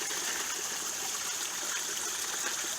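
Water cascading steadily down into a garden pond in a food forest, a continuous close splashing gush that runs unbroken throughout with no voices.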